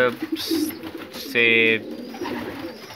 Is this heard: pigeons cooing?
yes